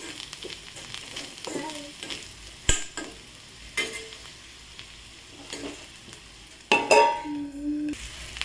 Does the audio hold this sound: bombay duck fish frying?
yes